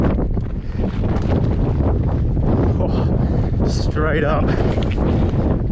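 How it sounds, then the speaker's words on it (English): Strong wind buffets the microphone throughout a mountain bike ride at Eagle MTB Park on a 2020 Norco Optic C3, a constant loud rumble with a rider talking briefly over it. "Oh, it's windy."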